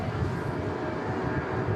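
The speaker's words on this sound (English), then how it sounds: "Virgin 330 is on the takeoff road." A Virgin A330 airliner takes off at Manchester Airport, heard as a loud, steady broadband jet-engine roar that stays even throughout; no talking.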